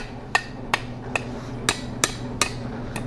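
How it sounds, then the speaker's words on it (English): Hammer taps on a hot steel fire poker bent over an anvil horn, seven sharp ringing strikes spaced about half a second apart, close and clear over a low steady forge hum, with no talking. "I'm just going to put this over the horn on the anvil, give it some taps"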